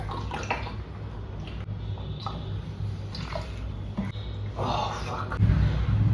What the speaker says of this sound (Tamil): நம்ம தண்ணி குடிப்போம்.